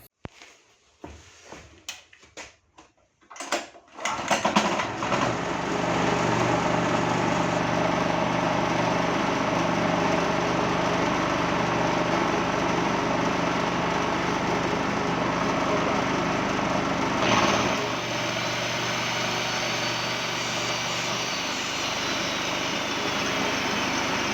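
A petrol generator roars steadily after a few clunks and pulls, with an angle grinder's high whine layered on top; a brief surge and dip near the end as the grinder starts.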